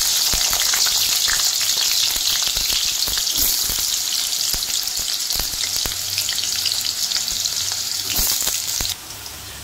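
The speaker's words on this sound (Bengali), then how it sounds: "তারপরে আলুটাকে ভালো করে ভেজে নিব" Potatoes fry in mustard oil in a pan, giving a loud, steady sizzle with scattered crackles and pops that runs throughout and drops off slightly at the very end.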